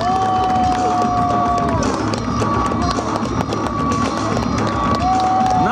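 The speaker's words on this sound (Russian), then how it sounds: "Аплодируем, аплодируем бойцам и Андрею Камину" Crowd at a jousting tournament cheering and applauding the fighters, a loud continuous roar of voices with whistles and scattered clapping.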